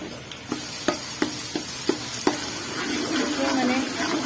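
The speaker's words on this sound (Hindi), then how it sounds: "अब यहाँ पे फिर से मैं थोड़ा सा अदरक लहसुन का पेस्ट डाल रही हूँ" Ginger garlic paste sizzles and fries in a pot while being stirred for homemade degi pulao, with a series of sharp spoon scrapes and taps in a steady rhythm before settling into continuous hissing frying.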